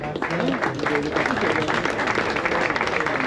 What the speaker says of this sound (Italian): ancora un applauso per il Latte Dolce